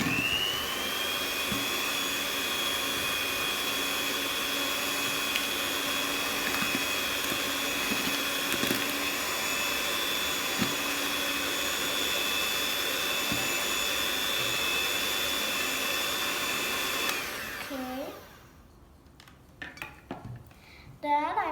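An electric mixer beats cake batter for a traditional cake with a steady, high motor whine for about seventeen seconds, then cuts off, followed by a few scrapes and taps of the bowl.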